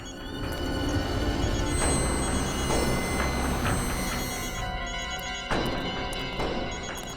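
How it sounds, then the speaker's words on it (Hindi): Telephone ringing somewhere nearby in an area being searched in a CID crime drama episode, a moderately loud, continuous ring with a few sharp knocks and movement sounds over it and no talk. "इसी एरिया में कहीं पर फोन की घंटी सुनाई पड़ रही है।"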